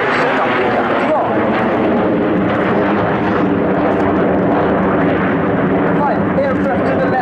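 Frecce Tricolori aerobatic jets roar overhead at an air display, a loud continuous broadband engine rush that swells and shifts as the formation crosses, with an announcer's commentary running underneath.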